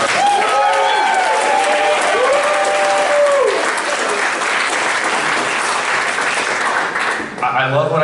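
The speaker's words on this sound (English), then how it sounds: "Let's give another round of applause for the first demo." Audience applause at a DevCamp 2019 game demo event, loud and sustained clapping from a crowd with cheering voices mixed in, fading toward the end.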